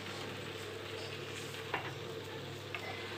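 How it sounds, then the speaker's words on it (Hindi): Onions frying in a home kitchen pan give a steady, close sizzle with a few small pops and crackles, and no voices. "और मैं प्याज को फ्राई कर रही हूँ"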